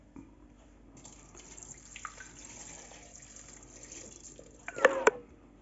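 Tap water runs into a pot of water for cooking rice, a steady low splashing hiss that builds to a brief louder slosh near the end, with no talk over it.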